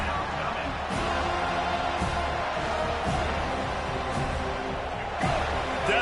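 Stadium crowd at a college football game between FSU and Florida, a steady loud roar swelling throughout, with a commentator talking over it.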